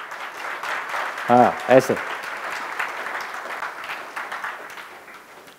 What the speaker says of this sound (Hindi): ताली अच्छे से बजा सकते हैं